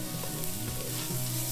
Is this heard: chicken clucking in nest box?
no